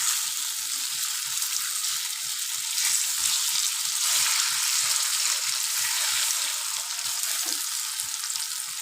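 Dahi vada batter fritters sizzling steadily in hot oil, a dense continuous crackle with small regular pops running close and even throughout, no voices.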